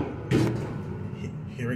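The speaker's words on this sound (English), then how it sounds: "let's close the door first" Elevator door at the Yancey Building in Raleigh, NC, on a Dover Impulse hydraulic elevator, closing with a single solid thud early on, followed by a low indoor rumble and faint background noise.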